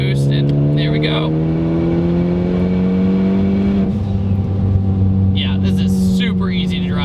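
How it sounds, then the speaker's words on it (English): A Ford Focus ST fitted with a big turbo builds boost, its engine drone rising steadily with a whooshing, whistling turbo spool layered on top, loud and close from inside the car. "With this, you get this very, very odd build-up sound."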